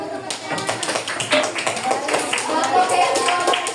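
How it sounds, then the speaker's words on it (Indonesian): Classmates clap for each other in a school classroom, with uneven, moderately loud handclaps running throughout and voices talking underneath. "Tepuk tangannya untuk teman-teman."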